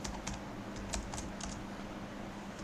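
Computer keys clatter as C++ code is typed, a quiet, close run of quick, irregular clicks in small clusters with no talking.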